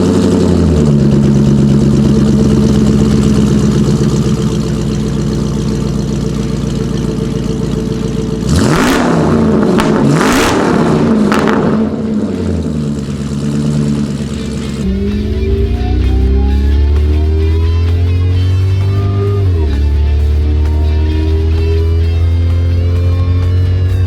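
A 2006 Cadillac STS-V engine idles with a steady low rumble, then is revved hard several times in quick bursts before settling back to a deep idle.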